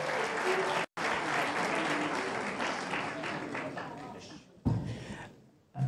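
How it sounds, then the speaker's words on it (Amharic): Dense applause from an audience at a ceremony honouring award-winning high-achieving students, loud and sustained with a brief break, then fading and rising again near the end. "እስኪ ለሁሉም ተማሪዎች አንድ ጊዜ ደብልቅልቅ ያለ ክብርና ጭብጨባ።"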